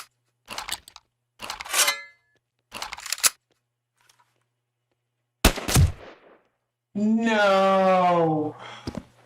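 Video game gunfire comes as several separate sharp bursts spread across the moment, with quiet gaps between them, followed by a person's voice speaking near the end.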